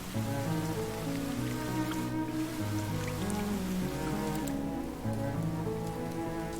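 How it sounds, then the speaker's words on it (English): Steady rain falling in a video game, a dense continuous patter throughout, with sustained game music tones underneath. "let's get out of this rain."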